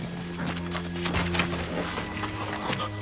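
Horse hooves clip-clop steadily at a walking pace in a western film setting, fairly close and continuous, with a low rumbling background and a brief whinny-like texture.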